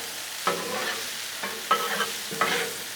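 Broccoli, peas, carrots and onions sizzle on a Blackstone griddle while a spatula scrapes and stirs them in three short bursts over the steady frying hiss, close up with no talking.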